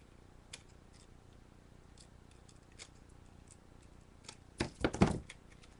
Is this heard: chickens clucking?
no